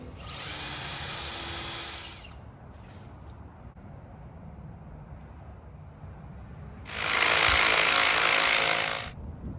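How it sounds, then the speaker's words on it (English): A power drill bores holes into wood for lag bolts at a workbench, with two loud, sustained bursts of whirring separated by a quiet pause. "mark out holes for where we're going to drill so that when we put our lag bolt in, it doesn't split the wood"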